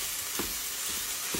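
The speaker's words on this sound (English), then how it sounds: "I'm going to get to chopping up my hamburger here." Hamburger meat in a cooking pot, heard as a continuous loud sizzle with three soft scraping strokes spaced evenly apart as the meat is chopped up, and no voices.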